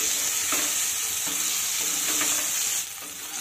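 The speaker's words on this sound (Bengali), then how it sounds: "এবার গ্যাসের হিট মিডিয়ামে রেখে বেগুনটাকে লাল করে ভেজে নিতে হবে।" Eggplant pieces fry in hot oil over medium heat, a steady close sizzle with faint stirring scrapes, loud and continuous, dropping slightly in level near the end; no talking.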